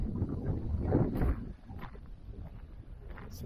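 Wind blowing hard outdoors past a tall structure that sways in the gusts, a loud broadband rush that swells in the first second and a half and then settles into a steadier, lower roar.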